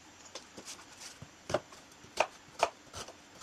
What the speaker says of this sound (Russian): Одну луковицу режу достаточно мелко.